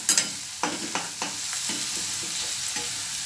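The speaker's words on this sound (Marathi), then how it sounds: "लसूण हिरवी मिरची तेलामध्ये परतली ना तर जरा तिखट कमी लागतं" Garlic and green chilies sauté in hot oil, a steady close sizzle broken by several soft stirring scrapes and taps.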